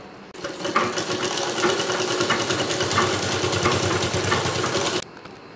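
A sewing machine stitches a border strip onto a saree, running in one steady, close, rapid whir for about five seconds before stopping abruptly.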